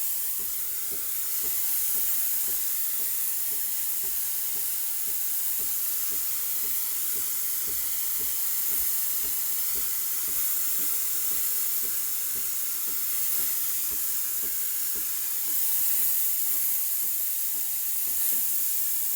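Steam wand on a Breville Barista Express BES870 espresso machine, affected by a fault where the steam stops, letting out a steady, loud hiss of jetting steam that holds for the full stretch with slight swells, alone and without talk.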